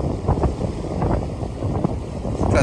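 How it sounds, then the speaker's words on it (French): On a sailboat sailed solo, wind of more than 20 knots roars across the microphone in heavy, continuous low buffeting, with water rushing along the hull beneath it. "j'ai plus de 20 nœuds de vent réel."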